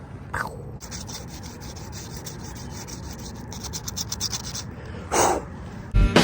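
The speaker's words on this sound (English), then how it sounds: "I'll sand that and fill it." Sanding a repair patch on a custom Archer Flight rebuild: steady, close rubbing and scratching strokes run nearly continuously, with a few louder scrapes near the end and no talk.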